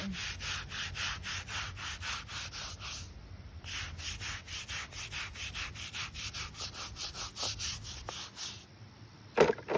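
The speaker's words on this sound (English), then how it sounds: "this is like a natural bristle brush. It's very soft, applying pretty light pressure here" Soft natural bristle brush scrubbing a headstone with light pressure, a steady run of rhythmic back-and-forth rubbing strokes, close and continuous, with a brief pause midway and a sharper knock at the end.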